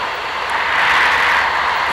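A racing aircraft engine roars steadily and loudly as the plane accelerates through the Schneider Trophy race course, a continuous close, dense drone.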